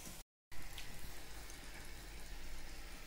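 A little water is poured into a pan of potato kurma with boiled potatoes, a soft steady trickle that follows a brief silence and runs quietly to the end, with no talking.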